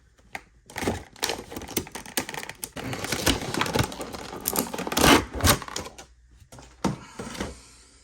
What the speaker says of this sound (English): Now, I got my box cutter with me, and I'm going to go ahead and split this thing open.